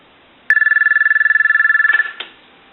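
A Thomas limited edition telephone rings once with a fast, rattling electronic trill for about a second and a half, close and loud, ending with a soft click.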